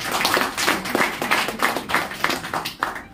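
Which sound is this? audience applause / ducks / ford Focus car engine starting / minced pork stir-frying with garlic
audience applause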